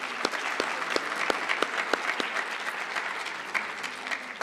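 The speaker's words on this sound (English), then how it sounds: "let's give them all another round of applause as they leave the stage" An audience applauds contestants leaving the stage at a Pan African Mathematics Olympiad medal ceremony, with steady, sustained clapping that fills the hall throughout.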